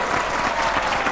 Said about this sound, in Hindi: एक बार जोरदार तालियां तीनों के लिए।